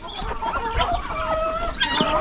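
Farmyard turkeys call in overlapping, warbling yelps and clucks, close and continuous.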